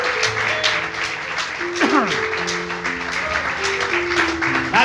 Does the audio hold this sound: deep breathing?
no